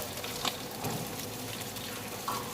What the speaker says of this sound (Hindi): मैं अभी मैं प्याज डाल रहा हूँ